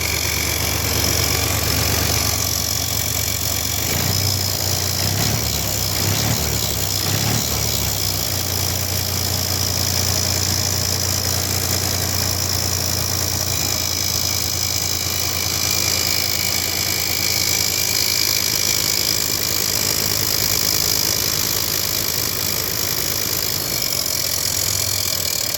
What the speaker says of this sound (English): We have a functional tractor.